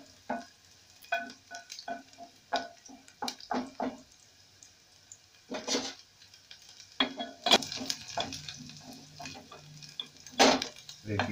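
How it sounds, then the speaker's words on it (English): Beef pilau ingredients stirred in a hot pot, a spoon scraping and clinking against the metal in irregular bursts over a steady close sizzle of frying, with no talking. "You keep stirring them because those at the edge will start to burn"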